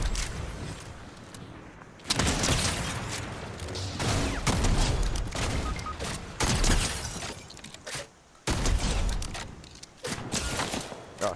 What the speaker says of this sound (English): I see lots of shooting.